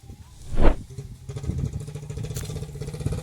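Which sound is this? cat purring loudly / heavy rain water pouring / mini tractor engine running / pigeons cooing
mini tractor engine running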